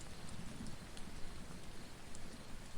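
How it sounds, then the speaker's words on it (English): Steady rain falls evenly and continuously, a dense soft hiss of drops on surfaces with no voices over it. "you become rain, nourishing the land below"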